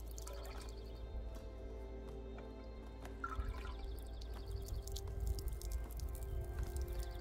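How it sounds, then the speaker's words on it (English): Water is scooped and poured from a small vessel during a pagan baptism and naming ceremony, a soft trickling flow with faint drips that grows slightly fuller toward the end, quiet and without talk. "I can just scoop the water, plug it, and then let it flow."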